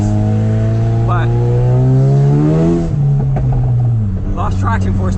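A V8 car at a street takeover revs hard, its deep engine note climbing then dropping as the tires briefly lose traction, loud and close, with a voice talking over it.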